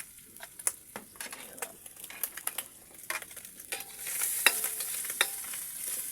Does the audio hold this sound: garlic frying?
yes